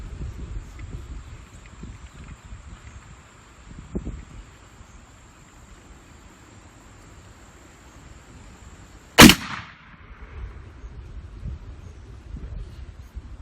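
A Traditions Deerhunter black powder rifle fires once outdoors in high winds, a single sharp loud boom that decays quickly, set against steady wind rumble and buffeting on the microphone.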